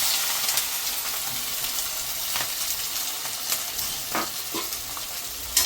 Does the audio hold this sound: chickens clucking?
no